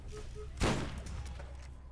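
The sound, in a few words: gunfire in the Borderlands video game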